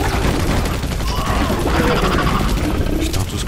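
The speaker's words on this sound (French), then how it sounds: "Quelle mitrailleuse." Machine gun fire in the video game Battle for Los Angeles, a loud sustained rattle of automatic shots mixed with crashing impacts and clanking battle noise, continuous throughout.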